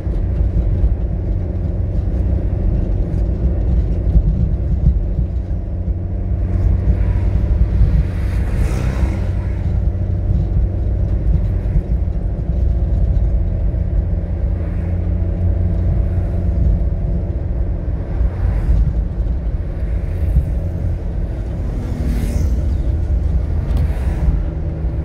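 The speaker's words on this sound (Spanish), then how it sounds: "los carros pasan rápido" Road traffic on the Arco Sur roars steadily from inside a moving car, a constant low rumble with occasional swelling whooshes as other cars pass quickly alongside.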